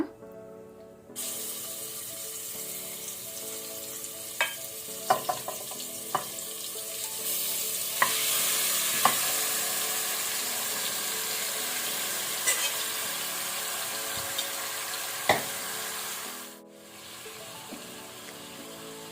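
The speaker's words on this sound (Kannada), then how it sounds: "ಈಗ ನಾವು ಮ್ಯಾರಿನೇಟ್ ಮಾಡಿದ ಮಟನ್ ಪೀಸಸ್ ಅನ್ನು ಹಾಕೋಣ" Marinated mutton pieces frying in ghee in a pan, a steady loud sizzle with intermittent stirring clatter and scrapes, continuous for most of the stretch before briefly dropping near the end.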